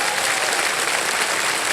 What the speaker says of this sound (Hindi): जी हाँ तालियां बज जाए